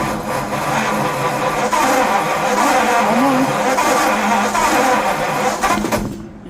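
A 1951 Ford F1 engine cranks over steadily for several seconds, loud and close, with rough sputtering attempts to catch before cutting off near the end.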